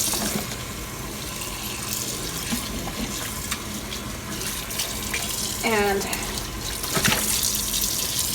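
Steady running cold tap water splashes continuously at close range over a turkey being rinsed, with a brief spoken word and some handling noises mixed in.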